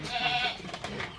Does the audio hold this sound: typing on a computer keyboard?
no